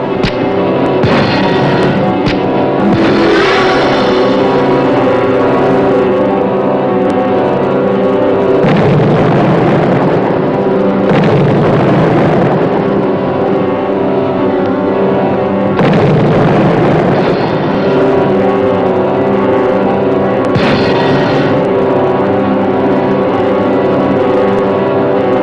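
Heavy naval guns aboard a grounded warship fire in succession, loud deep booms at intervals about every five to seven seconds over a constant low rumble, with no talk.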